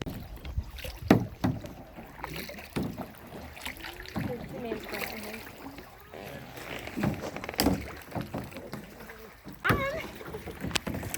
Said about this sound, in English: somebody's got to be paddling